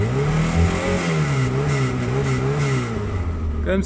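A Peugeot 309 petrol engine revs on the throttle with freshly changed spark plugs, close and loud, its pitch rising and falling in several smooth waves before settling.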